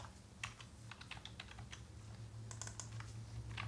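Quick, uneven bursts of clicking keys on a computer keyboard as HTML code is typed, faint and close, with short pauses between runs of keystrokes.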